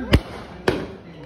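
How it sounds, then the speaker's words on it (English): Two sharp fireworks bursts, each a loud crackling bang, arrive about half a second apart as sound effects in a New Year's clay animation, followed by a fading hiss. "Now that's what I call fireworks."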